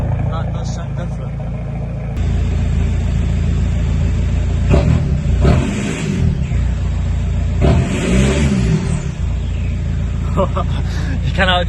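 Close-up, a remapped Volkswagen 1.9 TDI diesel revs several times, each rise swelling into a throaty roar with turbo whine before dropping back to a low idle rumble.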